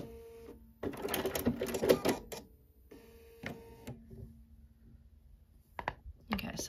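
A sewing machine stitches quilt snowballed corners in short bursts, its needle whirring in quick rapid runs separated by pauses, faint and near with a quiet motor hum in between.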